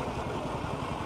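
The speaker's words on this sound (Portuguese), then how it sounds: "O amigo vai dar partida para a gente escutar aqui o ruído do motor." Steady, quiet idling engine of a 2015 Chevrolet Spin at a used car fair, a low even rumble without speech.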